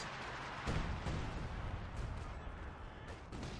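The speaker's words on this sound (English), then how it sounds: "the coordinated fire barrage does in fact work the air burst" Coordinated fire air-burst artillery barrage in Company of Heroes 2, a series of muffled blasts and crackling bursts over a dense background of battle noise, fairly distant and low in level.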